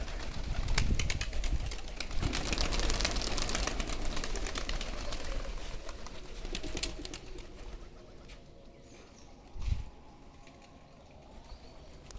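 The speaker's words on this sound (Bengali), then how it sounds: "অনেক কবুতর, প্রায় 50টা 60টা কবুতর আছে" About fifty or sixty pigeons kept together, cooing and fluttering their wings in a steady close chorus, with a sharper burst of flapping near the end.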